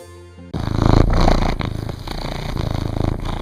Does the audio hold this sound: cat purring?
yes